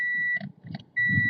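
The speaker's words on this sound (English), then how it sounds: "Sorry about the beep." A steady high electronic beep sounds loud and close, cuts out for about half a second while someone talks over a low background, then returns and holds to the end.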